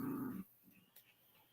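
A small puppy gives a short low growl, followed by a faint whimper and soft snuffling, close and quiet.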